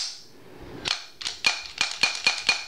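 A VZ 59 belt-fed rifle's bolt slams forward into battery: a quick run of sharp metallic clacks and snaps, close and crisp, with no talking.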